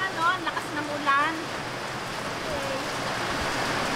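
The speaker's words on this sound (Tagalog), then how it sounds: "Naabutan na po kami ng ulan, no? Lakas ng ulan." Heavy rain pouring down outdoors, a steady broadband hiss running throughout, with brief voice sounds over it early on.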